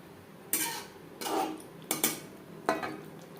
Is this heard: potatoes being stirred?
yes